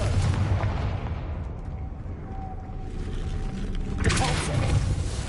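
Confringo fire spell cast in Hogwarts Legacy, heard as a loud booming blast near the end, over a continuous rumbling game soundscape with a brief tonal whine in between.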